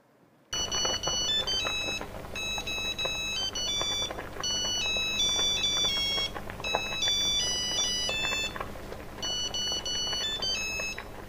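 An Al Dente pasta timer plays one of its classic Italian song alerts as a bright, repeating electronic melody in several phrases with brief pauses between them, loud and close, with no speech.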